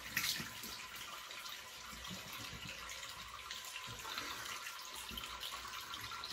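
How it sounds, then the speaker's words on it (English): Warm water runs steadily from a tap into a sink for a rinse while shaving, a continuous hissing splash that stays fairly quiet and close throughout, with no talking over it. "Nice warm water rinse."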